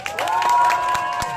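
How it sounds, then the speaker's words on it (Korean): A festival crowd at the Gimje Horizon Festival claps and cheers in a brief burst, with scattered hand claps over a sustained tone from the stage. "여기 김제에 계신 분들 박수 한번 쳐줘보세요"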